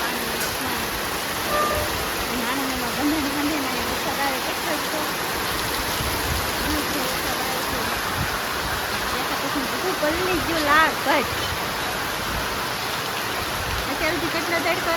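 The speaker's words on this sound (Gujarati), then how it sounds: "કેટલો બધો વરસાદ આવ્યો બહુ વરસાદ આવ્યો" Heavy rain pours down in a loud, steady roar that never lets up, with a voice faintly audible beneath the downpour.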